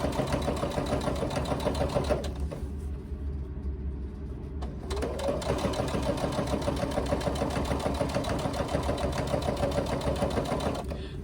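A sewing machine stitches a seam on a laptop bag in fast, steady rhythmic bursts, running close and loud with a brief pause midway before resuming.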